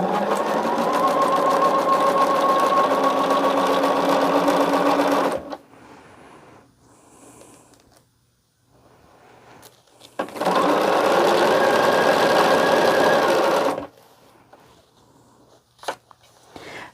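Sewing machine stitching strips for a string quilt on foundation paper, two long loud bursts of rapid mechanical whirring separated by a quiet pause, with small handling clicks in between.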